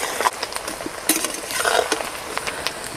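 Onions frying in a pan for a rustic-style desi chicken curry, with a soft sizzle under intermittent scraping and clinking as a utensil stirs them.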